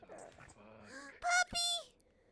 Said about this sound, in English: It's a dog! Puppy.